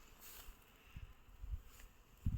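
Bees fly around an abandoned, overturned beehive at an apiary, their faint buzzing drifting near and far under light outdoor noise and a few low thumps.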